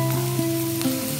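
Ginger, garlic and tomato sizzle steadily in a hot pan for a Goan Saraswat matar paneer gravy, a close, continuous frying hiss with soft stirring shifts and no talk.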